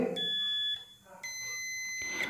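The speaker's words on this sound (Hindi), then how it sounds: "मैंने मल्टीमीटर को कंटिन्यूटी पे सेट कर दिया हूँ एंड आप बजर के बाद सुन पा रहे होंगे" A multimeter set to continuity, used on a 60-LED PAR light power supply during repair, gives two loud, steady electronic buzzer tones with a short gap between them.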